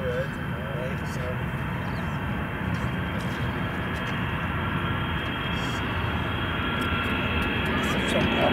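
Russian Air Force Ilyushin IL-76MD jet transport taking off overhead at Graz Airport, a loud steady roar of jet engines that holds at nearly constant strength throughout.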